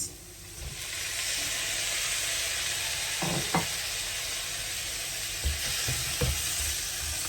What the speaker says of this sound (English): So once it's roasted, now you're going to add your chopped tomatoes.